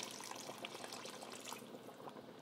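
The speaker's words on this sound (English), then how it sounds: "And now I'm going to add about 2 cups of water." Water poured into a pot of cassava leaf stew with chicken, a steady splashing trickle lasting the whole stretch at moderate loudness, with no voices.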